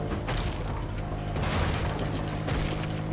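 Dense, loud rifle fire and booming bursts from a video game keep up a continuous barrage for the whole stretch, with little talk.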